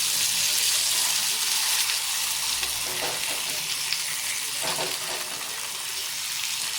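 Potato slices (kapanchi) fry in a pan after being flipped, giving a loud, steady, close sizzle with a few scraping stir sounds.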